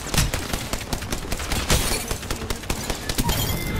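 Dense, continuous rapid gunfire rattles without pause in the video game Apex Legends, a loud automatic burst layered with overlapping shots and impacts.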